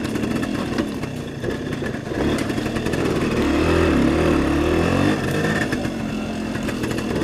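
A 1975 Suzuki RV-90 fat-wheel dirt bike idles nearby, its small engine putting out a steady, loud putter that rises slightly in the middle before settling back.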